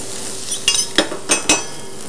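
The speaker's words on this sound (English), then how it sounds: "Stir that together." Garlic, ginger and green chili sizzle in a pan for dhal while a spoon stirs them, giving a few quick scraping strokes over a steady frying hiss, close and fairly loud.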